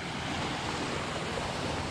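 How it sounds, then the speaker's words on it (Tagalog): Sea waves crash on rocks along the shore at a fishing spot, a dense continuous roar of surf and spray mixed with wind, loud and enveloping throughout and with no voices. "Ay, yung alon, no? Humahampas, no?"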